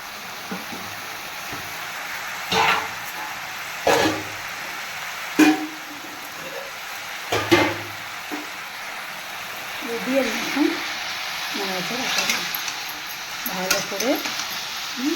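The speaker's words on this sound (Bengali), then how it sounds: "কষিয়ে নেব মশলাটা" Masala with a little dried red chilli is sautéed in a pan for jackfruit curry. A steady sizzle is broken by repeated loud scraping stirs of the spoon, while a person talks over the cooking.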